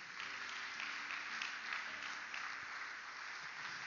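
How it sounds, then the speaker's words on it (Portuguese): A church congregation at a Baptist service applauds, a steady, even wash of clapping that holds for several seconds without speech. "Você pode aplaudir o Senhor por isso?"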